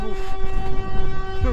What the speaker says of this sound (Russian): Это что? Сирена?